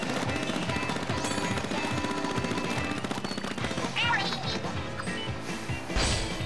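Ink weapons firing in the game Splatoon at the Mahi-Mahi Resort stage, a dense rapid stream of wet splattering shots over bright background music, with a sharp splash burst near the end.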